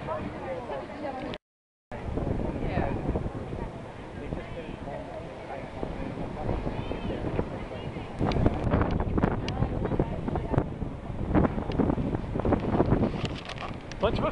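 Strong wind gusting into a microphone on a boardwalk while riding into a headwind at Rockaway, a steady roaring rush that persists throughout, with people talking faintly underneath.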